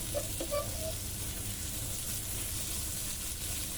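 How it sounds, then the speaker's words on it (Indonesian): Chili and onion sauté in a pan with a soft, steady sizzle that stays fairly faint, marked by a couple of light clinks early on. "Kita tumis sebentar sampai sedikit layu untuk bawang bombaynya."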